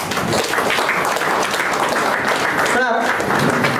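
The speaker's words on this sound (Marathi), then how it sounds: "टाळ्या वाजल्या पाहिजेत." An audience at a book-lovers' gathering marking a book launch bursts into sustained applause, dense and loud throughout, with a brief dip in the middle before the clapping surges back.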